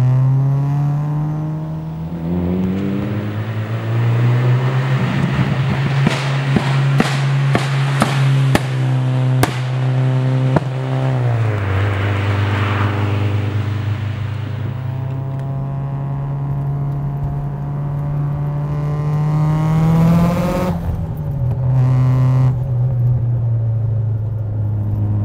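A 2.3-litre stroker four-cylinder in a Mitsubishi Lancer Evo 8 running on E85 at 31 PSI of boost, a loud, steady engine drone that rises through gears with sharp, rapid chopping bursts and revving surges, close and continuous.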